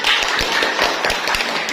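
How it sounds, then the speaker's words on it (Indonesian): Students clapping in a classroom, a short burst of many hands slapping together in uneven, overlapping claps, close and fairly loud with no talk over it. "Tepuk tangan."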